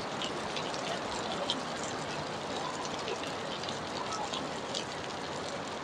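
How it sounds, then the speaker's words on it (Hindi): Steady rain patters continuously on surfaces in Mumbai, a dense even hiss with scattered droplet taps and no break. "मुंबई में अभी अभी बारिश चालू हो गया"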